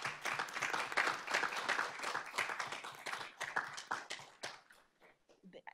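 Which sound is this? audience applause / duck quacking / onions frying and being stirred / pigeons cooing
audience applause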